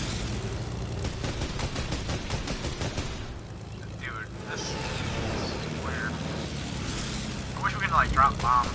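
Enemy gunfire in an aerial combat video game, bursts of rapid machine-gun fire over a droning propeller aircraft engine, with people talking over the action.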